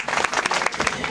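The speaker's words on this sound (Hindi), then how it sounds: "ताली बजाओ" A village audience claps together, a dense burst of close, lively applause that runs steadily throughout.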